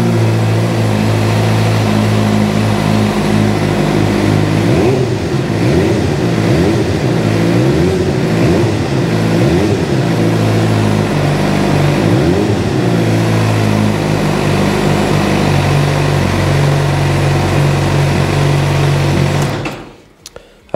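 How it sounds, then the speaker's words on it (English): A Suzuki GSXR600 motorcycle engine runs steadily close by, with a dense, buzzy idle and several quick revs that rise and fall in the middle before settling, then cutting off abruptly near the end. "Okay, let's start this up, listen to it run."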